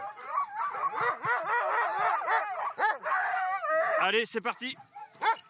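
Short-haired sled dogs bark, yip and whine excitedly in a dense overlapping chorus just before a training run, while someone speaks over them.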